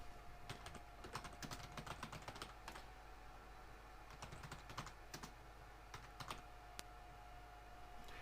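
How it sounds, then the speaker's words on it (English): Steady typing on a computer keyboard while entering tags into a web page, with rapid clustered key clicks in bursts and short pauses, close and clear over a quiet room hum, no talking. "just by typing them in"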